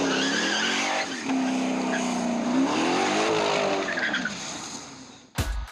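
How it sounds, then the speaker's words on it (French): Street race cars heat their tyres on asphalt before a late-night run, a loud, sustained tyre screech with wavering pitch over revving engines, ending in a sharp burst. "Ce qu'ils font là, c'est chauffer les pneus pour qu'ils adhèrent davantage."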